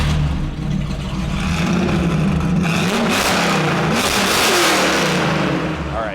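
A Ford Mustang with a 289 V8 and custom side-pipe exhaust roars close and loud, revving up and down in rising and falling swells that fill the whole stretch, with no talk over it.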